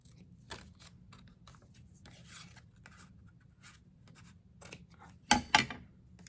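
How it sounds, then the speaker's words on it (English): Ribbon scissors snipping through ribbon near the end, two sharp close cuts after a stretch of quiet rubbing and handling sounds on a craft table. "let me take my ribbon scissors. I'm just gonna cut this."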